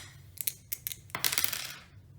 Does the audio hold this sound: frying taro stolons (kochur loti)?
no